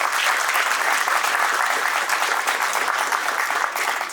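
Loud, dense applause from a large audience at a chamber of commerce opening ceremony, sustained and even throughout before easing slightly at the end.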